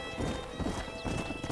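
In Red Dead Redemption a horse's hooves clop close by in a quick, even rhythm, with a soft whinny over a steady background of outdoor ambience.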